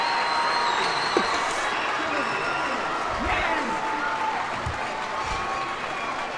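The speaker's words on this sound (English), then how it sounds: "Crowd go wild." A basketball crowd applauds and cheers after a game-winning shot in Tiger Town, Tigers vs Hall, a dense roar of clapping and shouts sustained throughout with whistles and voices mixed in.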